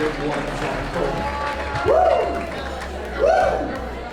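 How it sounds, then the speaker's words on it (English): Audience applause at a gala auction, a steady wash of crowd clapping that runs throughout and swells twice, with someone talking over it and chatter around it. "Folks, a huge round of applause."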